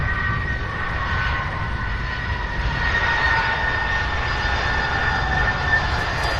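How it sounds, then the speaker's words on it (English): A UPS Airbus A300 jet at Louisville's SDF airport gives off a steady, fairly loud engine roar with a high whine above it, holding constant and alone throughout. "All right, here's the Airbus A300."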